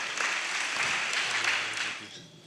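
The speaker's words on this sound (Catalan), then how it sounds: "un fort aplaudiment amb ell" A festival audience at a village festa major applauds, a dense wash of clapping that holds steady and then tapers off near the end, moderately loud and somewhat distant.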